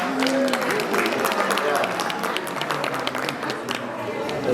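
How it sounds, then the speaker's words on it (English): Crowd applause for a performer at an expo in Polokwane, a dense steady clapping that fills the whole stretch, with someone speaking briefly over it. "Can you clap your hands?"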